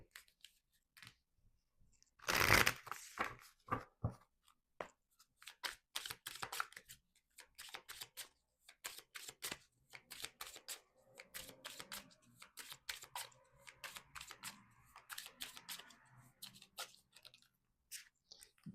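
Soul Symphony tarot cards being shuffled and handled, giving quiet, close, irregular flicks and taps, with one louder burst of riffling near the start.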